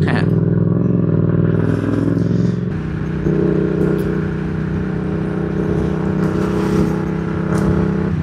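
A Yamaha MT-07 motorcycle rumbles along from the rider's seat, a close, throaty engine drone that shifts tone after a few seconds as the revs settle, with someone talking over it at times.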